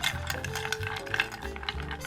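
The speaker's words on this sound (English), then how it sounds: "Add ice and stir." Ice clinks and rattles as a whiskey cocktail is stirred in a mixing glass, a close, quiet run of light tinkling knocks.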